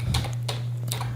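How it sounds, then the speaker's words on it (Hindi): A computer keyboard clatters with quick light keystrokes over a steady electrical hum as someone types a web address into Google. "गूगल में आते हैं और यहाँ पर टाइप करेंगे"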